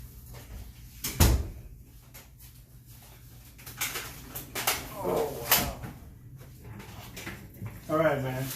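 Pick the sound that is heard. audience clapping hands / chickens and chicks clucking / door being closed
door being closed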